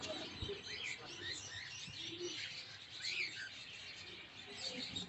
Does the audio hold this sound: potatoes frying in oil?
no